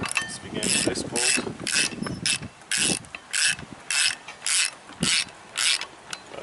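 A ratchet clicking in quick bursts as the bolts on a flywheel of a 5.0-swapped Ford Mustang engine are tightened, about a dozen short close rattling runs separated by brief pauses, with no talk.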